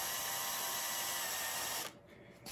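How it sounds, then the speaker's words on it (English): A drill bores a pilot hole into a wooden window sash with a steady, close high-pitched whir lasting almost two seconds, then stops abruptly into quiet. "I'm going to drill 4 pilot holes"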